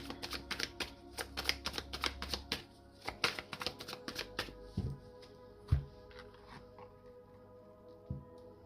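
Tarot cards being shuffled and cut by hand, a fast run of dense riffling clicks for the first few seconds, then a few softer taps and slaps as the deck settles, close and fairly quiet with no talking.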